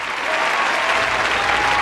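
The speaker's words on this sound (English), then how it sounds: "Actually, a round of applause for this one." A podcast studio audience applauds in a steady, dense clatter of clapping that holds evenly loud throughout, with no voices over it.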